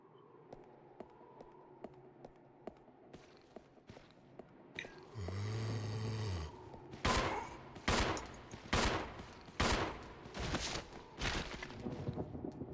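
Gunfire from enemy-clearing combat in the survival horror game Resident Evil 0, a run of loud, sharp shots arriving in quick bursts after a low rumbling passage, with no talk over it.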